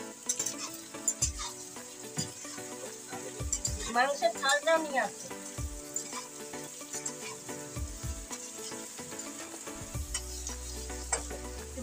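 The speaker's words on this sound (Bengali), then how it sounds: "এই পেঁয়াজও দিয়ে দিলাম সাথে, আলু পেঁয়াজ দিতে একসাথেই ভাজবো।" Potatoes and onions fry together in a pan with a continuous sizzle. A spoon scrapes and stirs in rhythmic bursts, and a person talks over the frying throughout.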